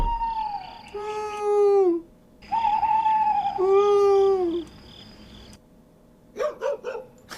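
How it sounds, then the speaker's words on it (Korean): A dog lets out long, drawn-out howling cries, then a quick burst of short barks near the end. "개 짖는 소리 좀 안 나게 하라"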